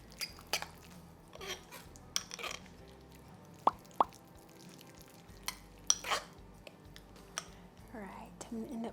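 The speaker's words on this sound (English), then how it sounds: "I'm gonna give it a little stir." Strawberry jam being stirred in a kitchen, with soft sticky scraping and several sharp clinks of a spoon against the container, sometimes under quiet talk.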